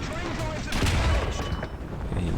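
Incoming tank fire in War Thunder ground battles, likely from an M2, with a sharp burst of gunshots and booms near the middle over a rumbling engine bed, and a voice speaking briefly.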